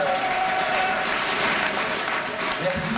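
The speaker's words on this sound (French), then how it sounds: "D'abord, applaudissez-vous vous-même parce que vous êtes les premières personnes de la soirée." An audience at an evening campaign event for the 2014 Asnières municipal elections applauds loudly and continuously, with dense clapping filling the whole moment and a murmur of voices underneath.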